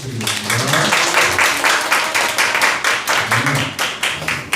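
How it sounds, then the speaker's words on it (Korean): Congregation applause at a church service, dense steady clapping from a gathered crowd lasting several seconds, with a voice also heard over it. "우리 박수 한번 부탁드리겠습니다"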